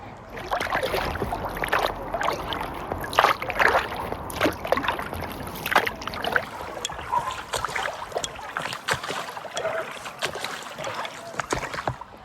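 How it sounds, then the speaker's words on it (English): Oars dip and pull through shallow water as a rowing boat moves along the River Thames, with close, rhythmic splashes and trickling drips. "And row between this section."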